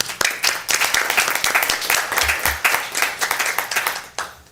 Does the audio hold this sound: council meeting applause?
yes